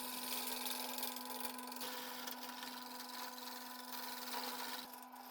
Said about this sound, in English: I better get some wood off quickly before the lathe goes through the floor